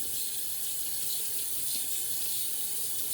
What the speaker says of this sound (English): Gonna get my brush nice and wet.